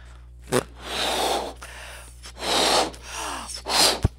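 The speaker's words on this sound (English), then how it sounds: "he popped up because he heard these breath noises and he kind of looked and he saw the balloon" A person blows up a balloon with three long, forceful breaths into it, each preceded by a quick, sharp intake of air, close and clear.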